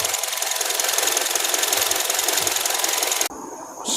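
A Honda 2.4 engine with a misfire runs with an uneven, rapid ticking knock, loud and close, then cuts abruptly near the end to a quieter whir.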